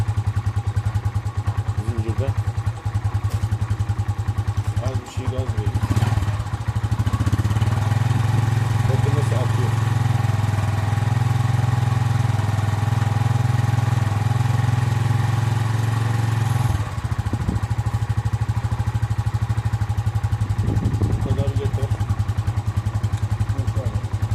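A Mondial 50 UAG motorcycle bored out to 150 cc runs with a steady, loud engine drone that swells as it revs in the middle, then settles back to idle; a voice speaks briefly over it.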